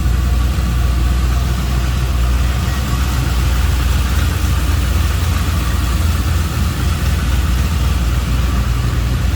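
A GM LS1 V8 with headers, fitted in a 1958 Chevrolet Apache Fleetside street rod pickup, idles steadily up close, with a deep, even rumble that holds at constant loudness throughout and no talking over it.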